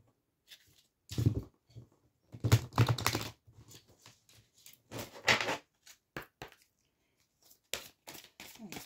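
Tarot cards shuffled by hand in quick irregular bursts of riffling and slapping, close and dry, separated by short quiet gaps with no talk.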